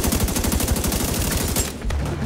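Rapid automatic gunfire rattles in a fast, even burst in The Division 2, stopping abruptly near the end, followed by a single sharp shot and quieter game ambience.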